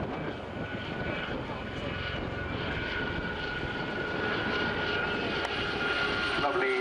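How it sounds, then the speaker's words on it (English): An RAF Grob Tutor training aircraft flies a display, its propeller engine giving a steady, broad drone that holds at moderate distance throughout, with a faint public-address voice underneath. "the 2019 Royal Air Force Tutor Display"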